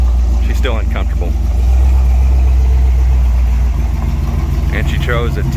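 A 1966 Dodge Dart with a big-cam 273 V8 rumbling steadily as it is driven, a deep continuous engine drone throughout with people talking over it in the cabin.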